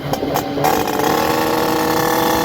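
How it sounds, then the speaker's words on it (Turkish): A moped engine runs with a steady mechanical rattle, close and continuous throughout, with no voices over it. "Motorun tırlamasını duyuyorsunuz arkadaşlar."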